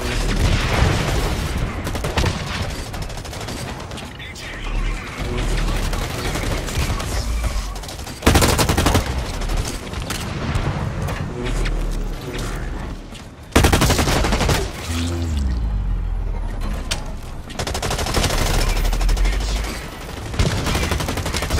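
Loud, sustained gunfire in Blacklight Retribution, with rapid automatic bursts and booming shots close up, pausing briefly between volleys and resuming.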